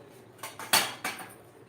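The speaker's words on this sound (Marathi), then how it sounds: "तर आता कढई ठेवून घ्यायची गॅसवरती आणि त्यामध्ये थोडंसं तेल टाकून घ्यायचं" A kadai set down on a gas stove gives a few sharp metallic knocks and clanks, four distinct hits close by in a quiet kitchen.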